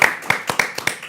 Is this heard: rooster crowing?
no